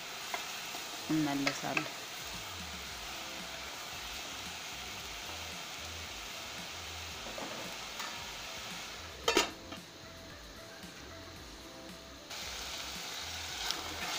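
Chopped onions cook in a covered pot for Ethiopian split pea alicha, giving off a steady close sizzle throughout, with a few sharp metallic clanks of the pot or lid and a brief spoken word near the start.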